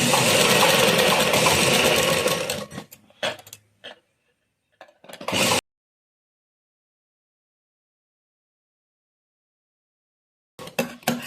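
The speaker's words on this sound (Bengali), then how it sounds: "এবার আমরা এটি সোজা পাটে সোজা দিকেই হবে সেলাই।" A sewing machine stitches the front side of a blouse in one loud continuous run, then gives a few short bursts of whirring and clicking before falling silent, with one more brief burst at the end.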